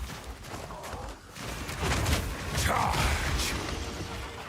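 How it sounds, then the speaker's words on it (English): Explosions in the video game Path of Exile 2 roar as a dense, crackling wash of blasts and rumbling debris, loud and continuous with mechanical clatter and a voice faintly mixed in. "Explosion."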